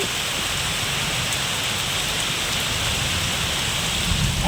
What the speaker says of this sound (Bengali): তো দেখো বাইরে যে বৃষ্টি হচ্ছে